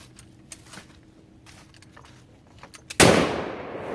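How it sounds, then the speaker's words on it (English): A .308 rifle firing on an outdoor test fire range: a single loud, sharp report near the end that decays into a long rumble, after quiet low background noise with faint knocks. "can I shoot that 308?"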